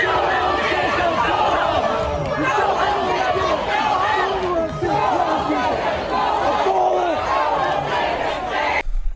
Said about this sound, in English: prompting a wave of boos and go-home chants from the crowd